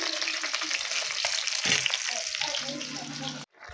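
Fish for a spicy curry with onion and tomato sizzles steadily in a pan over a wood-fired clay stove, with occasional stirring scrapes; loud and close throughout, cutting off abruptly near the end.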